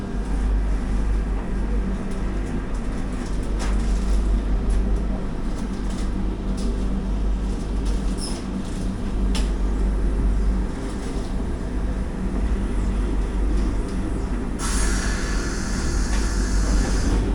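Heard from inside an AC chair car, the 20702 Tirupati–Secunderabad Vande Bharat Express departs Tirupati with a continuous rumble of rolling wheels, faint rail clicks and squeals, and a hiss rising near the end.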